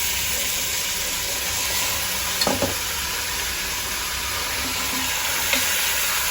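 Mutton and tomato frying in a pan at home, a steady soft sizzle and hiss throughout with a couple of faint stirring clinks, no voices.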